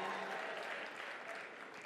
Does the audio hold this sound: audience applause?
yes